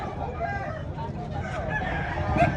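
A rooster crows at a poultry expo in Pinamungajan, Cebu, amid a noisy outdoor background with voices murmuring nearby; the call is moderately loud but partly blended with the surrounding chatter.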